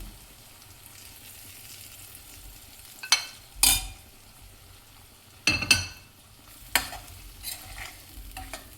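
Ivy gourd (tondli) sizzles softly in spicy masala over a low flame, broken by several distinct scraping stirs of a spatula against the pan at close range.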